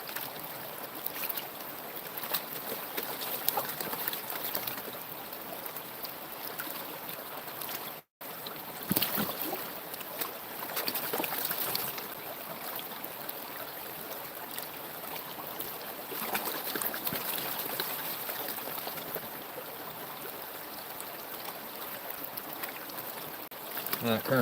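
A stream's current in Georgia, where gold is being panned, makes a steady, close broadband rush of flowing water throughout, with a brief dropout partway through.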